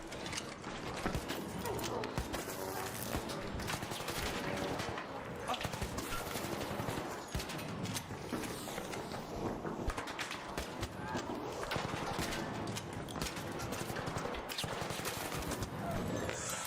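Rapid gunfire in a battle royale video game, repeated shots cracking among steady game noise and a talking player.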